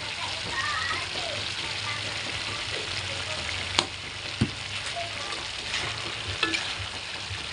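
Igado, a pork and liver dish, sizzling and frying steadily in a pan, with a few sharp knocks of a utensil while a person talks over the cooking.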